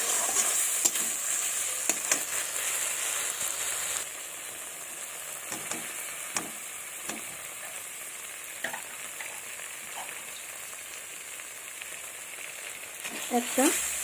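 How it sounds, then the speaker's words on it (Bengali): Mashed boiled potato stir-fried in a pan, with a steady close sizzle and scraping stir strokes that ease slightly after a few seconds and pick up again near the end. "তাকে ভালোভাবে এখন কষিয়ে নেবো"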